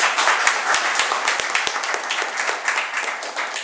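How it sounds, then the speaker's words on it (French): Audience applause after a speech by an ambassador, sustained dense clapping from a crowd, fairly close and steady throughout. "Ça s'applaudit."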